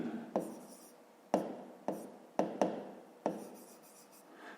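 A pen strikes and scratches across a surface while a fifth-grade math answer is written out. Six sharp, close taps come at uneven intervals, each trailing into a soft scraping stroke, in a quiet room.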